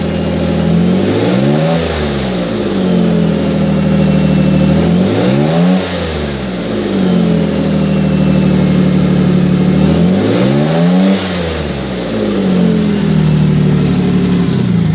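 A 2007 Chevrolet Malibu engine with an exhaust leak idles loudly up close, then revs up three times in swelling, falling sweeps before settling back to a steady idle.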